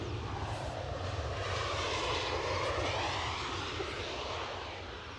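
Jet airliner landing at Edinburgh Airport, a steady loud engine roar sustained throughout and easing slightly at the end, with no voices.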